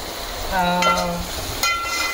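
Chopped onion sautéing in a pan for a tempering makes a short sizzle with a stir and a faint scrape, close and moderately loud, with a brief tonal hum in the background.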